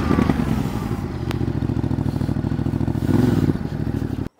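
Motorcycle creeping along slowly in first gear on a slight throttle. The engine gives a close, loud, lumpy putter, with clattering and scraping mechanical noise on top, and no talk.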